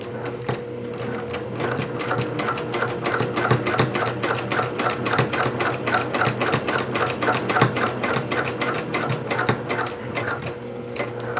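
A sewing machine runs steadily along a seam on a courier bag, a loud, close, rapid even stitching rhythm sustained for several seconds without pause.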